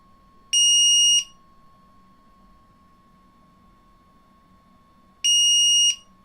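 A 3D printer gives two long, shrill electronic beeps about five seconds apart, loud and close, over a faint steady hum and no talking.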